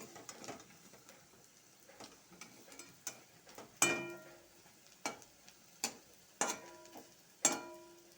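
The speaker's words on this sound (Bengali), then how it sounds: "আমি লাল লাল করে ভেজে নেবো।" Lentil fritters made from coarsely ground masoor dal fry in oil, giving sparse, faint crackles and sharp pops that land every second or so against a quiet background.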